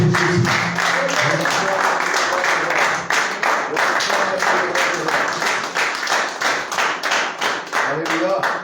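A church congregation claps in a steady rhythm while singing in praise of Jesus, the beats close and even throughout, with voices running under the clapping.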